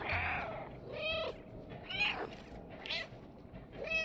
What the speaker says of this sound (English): I love the meows.